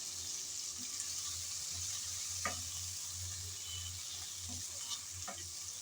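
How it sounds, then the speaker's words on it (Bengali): Tomatoes and spices frying in a pan for a bitter gourd (kakrol) dish, with a soft steady sizzle and occasional clinks and scrapes of a ladle stirring, fairly quiet and without voices. "কিছুক্ষণ সময় নিয়ে টমেটো কষিয়ে নিলাম"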